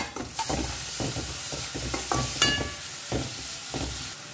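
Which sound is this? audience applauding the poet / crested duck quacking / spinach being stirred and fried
spinach being stirred and fried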